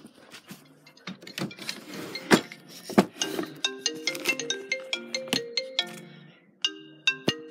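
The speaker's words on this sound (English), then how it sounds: "Oh, it's my phone." A mobile phone plays a melodic ringtone, a run of evenly spaced chiming notes that follows some clattering clicks and knocks.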